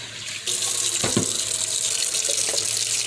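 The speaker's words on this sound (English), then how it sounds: "then we add water and let it soak for 24 hours" Tap water starts suddenly and pours steadily into a bowl holding a quarter cup of mung beans for soaking, a close, even splashing rush that continues alone to the end.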